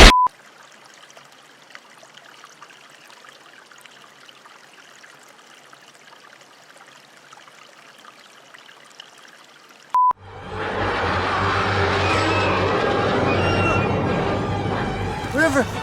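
A quiet stretch with faint beeps gives way to loud, steady, close rushing of river water that continues to the end.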